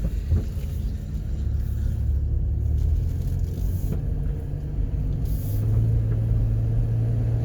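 A 2007 Dodge Caravan cruising on a highway, with a steady low engine and road rumble plus wind noise through partly open windows, continuous and fairly loud.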